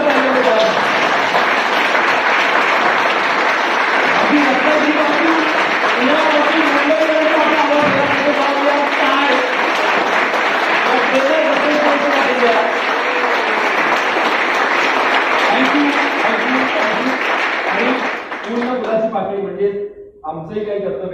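Sustained, loud audience applause at a trainers' association event, a dense wash of clapping that continues evenly for many seconds, with someone talking over it, before it thins out and fades near the end.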